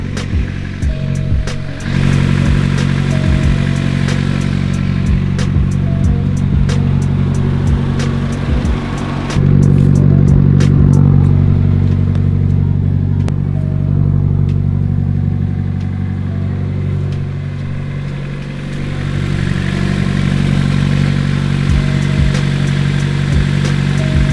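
A car engine idling steadily after a cold start, loud and close, a deep continuous rumble with slight shifts in pitch and a few faint clicks.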